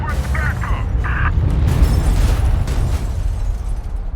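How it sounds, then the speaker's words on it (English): A grenade explosion in Mafia 3: Definitive Edition, a loud heavy rumbling blast that rolls on for several seconds with debris noise, preceded by brief tonal game sounds. "Got some grenades for you."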